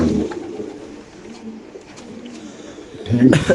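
Racing pigeons in a loft on a pigeon farm give soft low cooing, with a louder flutter or burst near the end, heard alone over a quiet room tone.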